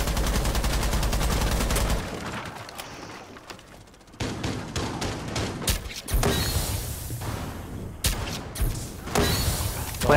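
Bursts of automatic gunfire in a first-person shooter game, sharp rapid volleys separated by short pauses, loud and close with no talk over them.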